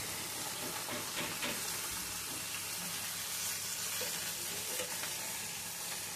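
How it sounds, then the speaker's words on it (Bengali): Pumpkin greens and eggplant curry sizzling in a pan while being stirred, a steady dense frying hiss with soft scraping of the spoon throughout, no one talking. "এবার খুব ভালো করে কষাতে হবে, অনেকক্ষণ ধরে নাড়তে হবে।"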